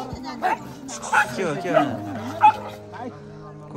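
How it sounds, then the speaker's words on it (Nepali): Dogs in a scuffle let out several short, sharp barks, yips and whimpers in quick bursts, heard close up while people talk over them. "कुकुरको फाइट"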